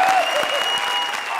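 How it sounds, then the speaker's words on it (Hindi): Loud, dense applause from a comedy show studio audience fills the whole short stretch, steady clapping without pause. "जोरदार तालियां।"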